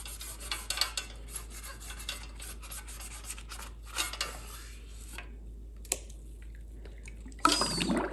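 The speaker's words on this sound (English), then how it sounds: "scrub up and down the lead pipe" Trumpet lead pipe scrubbed with a cleaning brush, soft close rasping strokes in uneven bursts over quiet background, then a brief louder splash or clatter near the end.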